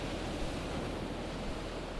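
Ocean waves break near the remote Dangerous Archipelago, heard as a steady, distant, fairly faint wash of surf with light wind and no speech.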